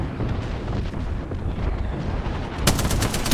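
Gunfire rattles in a battle royale shooter match, with a dense rumble of shots and impacts throughout and a sharper, louder burst near the end.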